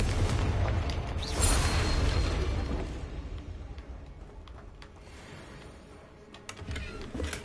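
A Confringo explosion spell is cast in Hogwarts Legacy, a loud booming burst early on that rolls off into a fading rumble, with smaller pops and clatter afterward.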